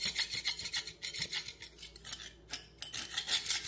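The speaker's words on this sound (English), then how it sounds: "see this glue right here? You see, it's like giving a little, you know, a little resistant, but look how easy it's just scraping right up." Old glue being scraped off a surface with a tool, a close series of quick raspy strokes in an uneven rhythm, with no talking.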